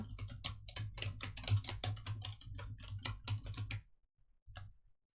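Rapid keystrokes on a computer keyboard while entering text in PowerPoint, a close, steady run of clicks for about four seconds, then a pause and a final brief burst; no voices.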